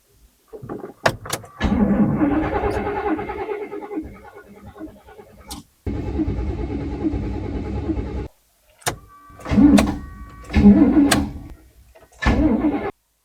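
An American-built kei truck, thought to have a bad fuel pump, cranks without starting in several separate bursts of starter whirring with short pauses between them, close and loud, and no one speaks.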